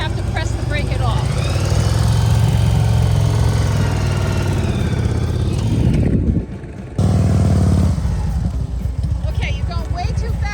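Motorcycle engine held at high RPM during slow-riding practice, a loud, steady drone that cuts out briefly near the end before resuming, with an instructor talking over it.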